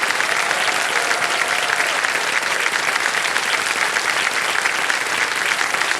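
Steady, dense applause from a studio audience on the game show Kaun Banega Crorepati, filling the whole stretch at an even, full level with no talk over it.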